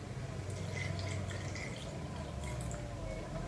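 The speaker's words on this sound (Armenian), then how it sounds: "Հիմա այստեղ մի փոքր ջուր" A small amount of water poured into a honey drink being made at home: a soft trickling and dripping splash with steady background hiss, no voices.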